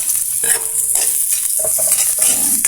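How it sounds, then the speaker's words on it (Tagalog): Ginger sizzles in a hot pan under loud, close stirring and scraping, with short bursts of frying crackle and no talking. "Gigisa lang natin yung ating luya."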